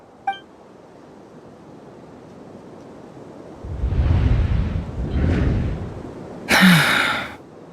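A character's gasp in the Genshin Impact video game: a soft breathy intake of air rises out of near silence, followed by a second fainter breath and then a brief brighter whoosh near the end.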